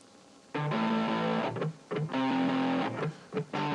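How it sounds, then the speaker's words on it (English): An electric guitar through an amp with clean distortion and a touch of chorus plays sustained chords in phrases separated by short pauses, moderately loud and alone. "we used a very clean distortion."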